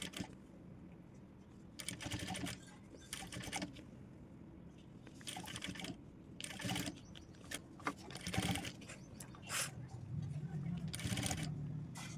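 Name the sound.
sewing machine stitching blouse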